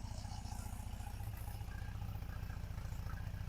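An MG BGT idles near its exhaust, a low, even, throaty pulsing burble with a slight tappety clatter, steady and close throughout.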